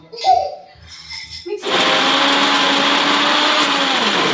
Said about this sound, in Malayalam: അപ്പോൾ ഞാൻ ഓർത്ത് വേഗം എന്നാൽ മിക്സിക്കകത്തിട്ട് അങ്ങ് ബ്ലെൻഡ് ചെയ്തേക്കാം